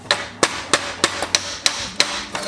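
A ball peen hammer strikes a still-hot metal flange on a twin turbo engine build: about ten sharp, ringing metallic blows at an irregular, fairly quick rhythm, close and loud, with no talk.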